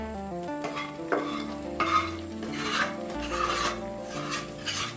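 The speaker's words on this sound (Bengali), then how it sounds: "নাড়া দেওয়ার সময় একটা শব্দ হবে এইরকম" Beef being stirred for tehari in a pot, a loud, continuous sizzling rasp of meat scraped and turned against the metal, with repeated stirring strokes and no talk.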